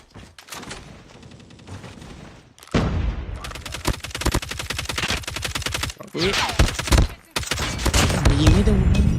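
Rapid automatic gunfire and bursts from the mobile shooter Call of Duty Mobile during a competitive match, loud and dense with short pauses, as commentators talk over it.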